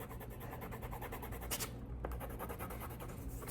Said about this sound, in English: That is a color pencil's color.